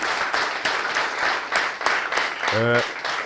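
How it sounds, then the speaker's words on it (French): Audience applause at a live comedy roast show in Baie-Comeau, a short round of clapping for a sound and lighting technician, mixed with talk and a brief hum near the end. "Bon, mais applaudissements pour Guy."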